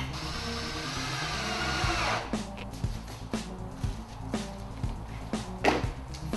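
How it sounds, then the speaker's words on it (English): A power drill drives screws into a solid teak Adirondack chair. A steady motor whir runs for about two seconds, then gives way to a series of sharp clicks and taps. "Obviously faster with the power drill than a screwdriver"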